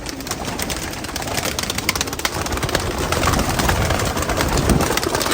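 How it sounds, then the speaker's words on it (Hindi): Pigeons coo and flutter amid a dense, noisy background of rustling and movement, with the birds sounding close and busy throughout. "ये देखो भाई कबूतर"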